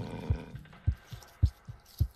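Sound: heartbeat of the character Claire in the video game Claire

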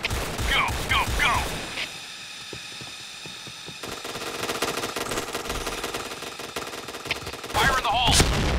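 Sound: gunfire in the video game PointBlank, AUG A3 rifle

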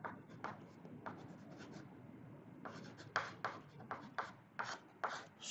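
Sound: writing on a board

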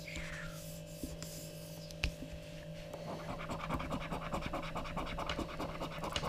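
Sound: scratching a Monopoly scratch card

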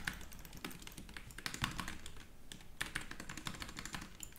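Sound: computer keyboard typing

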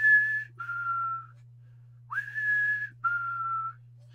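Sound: imitated whistling

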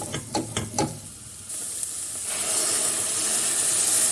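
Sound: water added to sautéed lentils in hot pot

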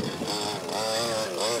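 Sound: RC car motor under throttle, Kalbach Baja 5T with Ansmann motor

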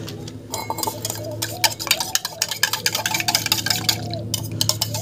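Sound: spoon stirring food colouring into water

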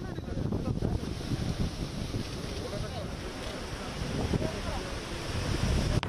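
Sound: rough sea waves

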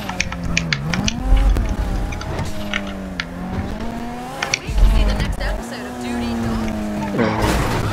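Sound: car driving

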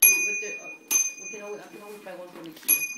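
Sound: bell ringing

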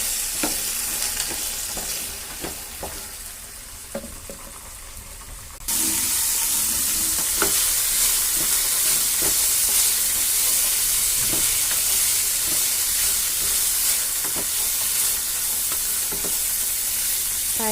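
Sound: frying chickpeas (chana) in pan

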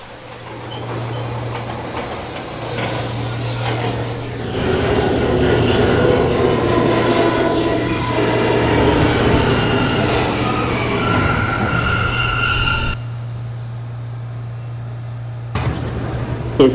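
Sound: C local subway train at 42nd Street station

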